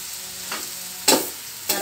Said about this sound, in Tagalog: Para diretso gisa-gisa na lang, halo-halo, ayan.